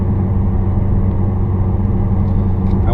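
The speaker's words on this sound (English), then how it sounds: "I'm opening the window up here so you can hear humming noise from the roadway to the tire." Road and tire noise from Atturo AZ850 tires on a 2016 Dodge Challenger heard through an open window, a steady low rumbling hum and whir of tires on pavement, loud and continuous with no talk.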